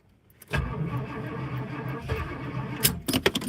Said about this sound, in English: The gas pedal just stuck.